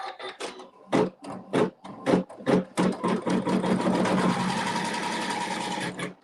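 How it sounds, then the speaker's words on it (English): Sewing machine stitching a quilt seam for half-square triangles, starting in short stop-start bursts of stitching, then settling into a steady continuous run, close and clear with no talking. "And now I can sew my seam."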